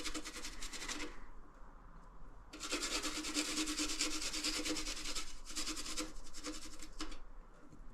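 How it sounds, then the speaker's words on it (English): Garlic is grated on a kitchen grater in quick, raspy scraping strokes, close and fairly quiet, with short pauses between bursts. "Then we crush or grate the garlic on a grater,"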